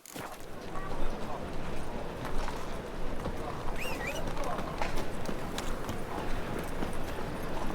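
Roach, a horse in the video game The Witcher 3, gallops with steady clip-clop hoofbeats running through busy game ambience, with speech heard over it.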